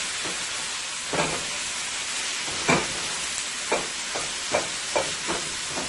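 Ground beef frying in a pan for a scalloped potato dish, a steady broadband sizzle with several brief louder bursts of stirring or spattering, close and with no talking.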